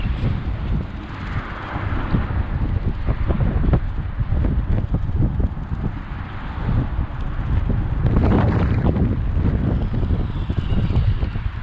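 Strong outdoor wind buffets the microphone in a constant rough roar with gusting swells, loud and close throughout, on a gravel road used for radio-controlled car testing.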